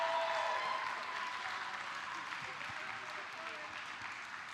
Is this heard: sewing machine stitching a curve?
no